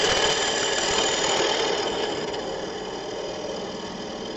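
A lathe tool hollows the cross-grain top of a small wooden box, giving a steady close rasping scrape that fades slightly toward the end.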